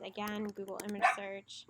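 A pet dog gives short barks and yips in a home room, quiet and intermittent, mixed in with a person talking nearby.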